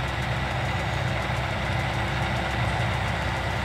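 Steady, continuous low rumble of a tractor engine idling in the farming game Landwirtschafts-Simulator 19, close and unchanging with a faint rhythmic pulse, no voices.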